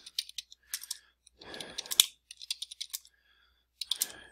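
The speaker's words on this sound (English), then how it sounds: "we're just going to simply type some text in here" Text is typed on a computer keyboard in quick, uneven bursts of crisp key clicks, with a louder clatter in the middle and short pauses between runs, close and fairly quiet.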